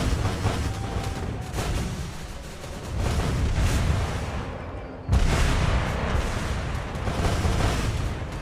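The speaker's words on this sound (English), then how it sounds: "The synchronized torpedo hit." Heavy explosive booms of a synchronized torpedo strike in the naval game Azur Lane, a sustained rumbling barrage with a sharp new blast midway, loud and continuous without talk.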